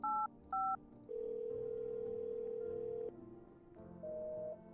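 A telephone number is dialed in the game No, I'm not a Human: two short paired touch-tone beeps, a long steady tone, then a lower tone and another held tone, all clean and fairly quiet.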